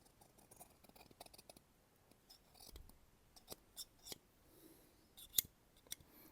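Freshly sharpened scissors snip through test material in a series of faint, crisp cuts, single and in small bursts, with quiet pauses between them.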